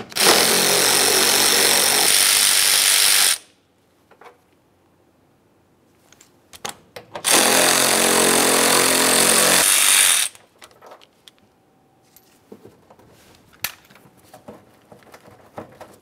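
Power tool buzzing off 10mm bumper cover bolts on a 2005-2010 Dodge Dakota, two loud steady runs of about three seconds each, separated by quiet gaps with small clicks and handling noises.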